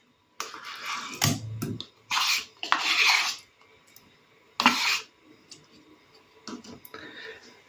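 Cottage cheese being scooped and dropped into a bowl for a bread dough, heard as several separate clinks, taps and scrapes of utensil against dish, close and fairly loud, with quiet gaps between.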